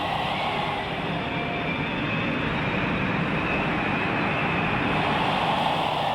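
Low-flying bomber aircraft drone past as a continuous dense engine rumble, steady and fairly loud without breaks.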